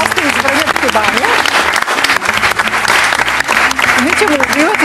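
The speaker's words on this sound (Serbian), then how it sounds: "Molim vas, jedan veliki aplauz za Jelena Gostin iz Vrnjačke Banje." A television studio audience on a Serbian talk show breaks into loud, sustained applause, dense rapid clapping filling the whole stretch while a voice carries on talking over it.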